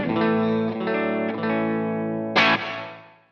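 Sustained chords played through a 1980s Yamaha multi-effects processor ring out with lush, wide reverb and a slight distorted edge, followed by a brighter struck chord whose tail fades smoothly into silence.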